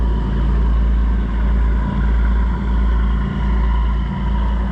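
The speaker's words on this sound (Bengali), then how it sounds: "সেই বিশালাকার গোজো চ্যানেল লাইনের ফেরি শব্দ করে রওনা হচ্ছে মল্টা দ্বীপের দিকে।" Large Gozo Channel Line ferry pulling away toward Malta, a steady close engine rumble with a low throbbing pulse and broad wash noise holding continuously throughout, with no voices.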